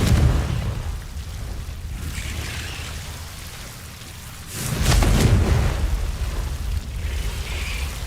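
A Confringo blasting spell in Hogwarts Legacy erupts as a loud, rumbling explosion midway through, set against a steady low roar of background ambience with a smaller burst afterward.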